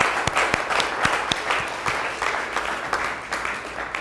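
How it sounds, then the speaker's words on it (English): An audience at a closing session applauds steadily and fairly close, the clapping dense and even with a few sharper individual claps standing out. "Please, can I have a round of applause"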